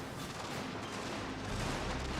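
Dense, continuous din of musket volleys and cannon fire rolling across a Russian army's Total War battlefield, a steady loud wash of overlapping shots with no distinct gaps.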